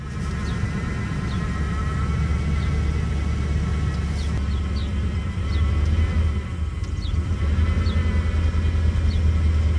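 A truck engine, freshly started, runs with a steady low rumble and idle, lasting the whole stretch with faint chirping and squeaks above it.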